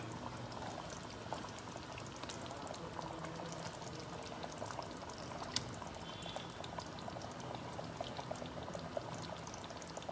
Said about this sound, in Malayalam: നമുക്ക് മീൻ ചേർത്ത് കൊടുക്കാം